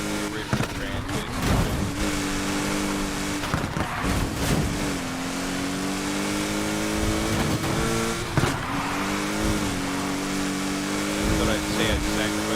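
A car engine in Need for Speed Heat, fitted with its original 6-speed transmission, revs and shifts through gears with rising and falling tones, loud and sustained, while someone talks over it.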